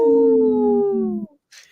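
A wolf howl sound effect in a radio sponsor spot: one long, loud, sliding howl that holds and slowly falls in pitch, then cuts off, followed by a short faint hiss.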